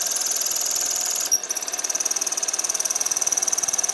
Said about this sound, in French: je vais essayer de comprendre pourquoi le moteur chante comme ça